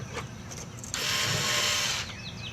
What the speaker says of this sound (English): run the screws in